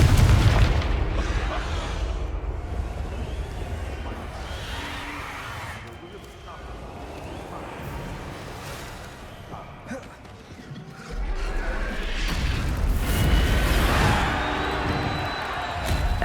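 The Confringo blasting spell in Hogwarts Legacy goes off as deep booming explosions, with a heavy blast at the start and another burst of rumbling impacts near the end, mixed with game dialogue and battle noise.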